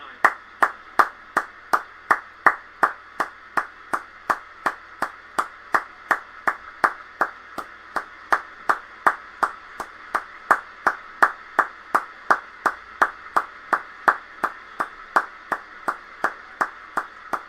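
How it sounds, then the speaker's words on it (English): Football supporters at Brentford Community Stadium hold a minute of applause. A steady, even clapping rhythm dominates, with one set of claps close and crisp and repeating roughly twice a second throughout. "Minutes of applause, apparently"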